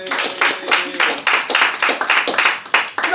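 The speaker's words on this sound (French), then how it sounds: "Tu es très intelligent, applaudis pour toi." Audience clapping at a French-English religious gathering, a short burst of quick, loud rhythmic claps in close succession.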